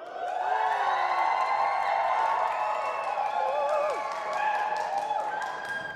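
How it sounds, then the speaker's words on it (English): A student audience at a Pride event cheers for SOAS in a sustained, loud wash of crowd noise with whoops and scattered claps that holds for several seconds. "if you think that SOAS should be our overall winners, please cheer"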